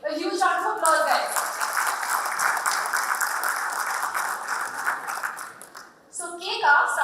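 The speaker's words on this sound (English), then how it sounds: "A huge round of applause, guys." An audience at a corporate HR gathering claps in a steady, full burst of applause lasting several seconds, with speech briefly heard before and after the clapping.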